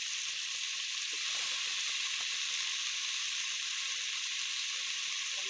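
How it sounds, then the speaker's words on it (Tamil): Tomato and brinjal with salt and curry leaves sauté in a hot pan for a kulambu, giving a steady close sizzle with a few soft stirring scrapes early on. "அடுத்து கத்திரிக்காய் சேர்த்து கொஞ்சம் உப்பு சேர்த்து வதக்கிடலாம்."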